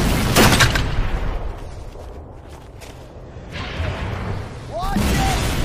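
Turret gunfire in the Halo video game, with heavy bursts of shots and booms at the start and again near the end and quieter firing between, under a voice.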